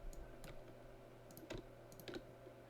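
A computer keyboard gives a handful of quiet, close key clicks at uneven intervals over a low hum. There is no talking.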